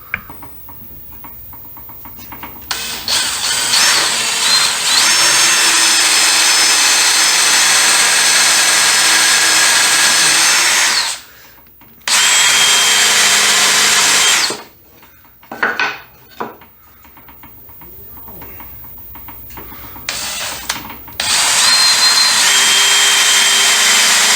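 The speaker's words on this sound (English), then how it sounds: "Now that I've got the countersunk holes drilled" A power drill with a countersink bit bores countersunk holes in a shop-made table saw push block, a loud high-pitched whine in several long bursts with brief pauses between them.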